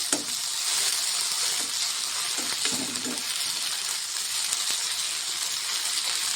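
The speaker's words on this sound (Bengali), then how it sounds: "এখানে শস্য বাটা দিয়ে দিলাম দেখতেই পাচ্ছ এখন সুন্দর করে এটাকে ফ্রাই করে নেবো" Mustard paste frying with onions in a pan for a pabda fish dish, a continuous hissing sizzle with a few scattered spoon clinks and stirs.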